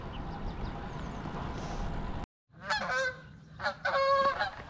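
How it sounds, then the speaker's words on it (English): Geese honk in several loud, close bursts after a stretch of road and wind noise, heard beside a mountain road in Healdsburg wine country, California, during a spring bike ride. "Geese."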